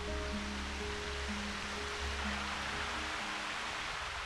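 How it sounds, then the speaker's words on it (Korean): A year-round waterfall in the dense volcanic rainforest of Christmas Island makes a steady, soft broadband rush of falling water, even and unbroken, with a low hum beneath. "1년 내내 비가 오지 않아도 마르지 않는 폭포입니다"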